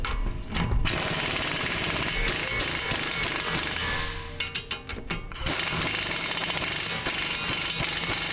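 Ratchet clicking steadily while tightening strut top bolts on Subaru WRX coilovers, close and loud, with a short pause midway before the rapid pawl clicks resume.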